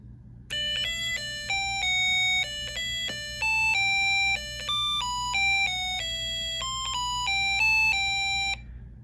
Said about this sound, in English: the music integrated circuit is going to start playing a song until it's over